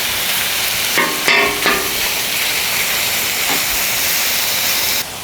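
Deer jerky and fajita meat browning in a pan, a steady loud sizzling hiss that runs almost the whole time, with a few brief clatters near the start and no voices.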